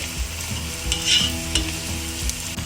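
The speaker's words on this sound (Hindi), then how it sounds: "अभी ये पत्ता गोभी हम इसमें ऐड कर देंगे।" Cabbage stir-fried on high flame in a pan for Manchurian fried rice, a steady loud sizzle broken by scraping stirring strokes, close up and with no one speaking.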